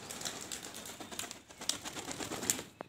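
Pigeons coo softly at close range, with a few short calls and faint fluttering against quiet background noise.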